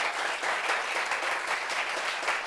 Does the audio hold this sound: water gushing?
no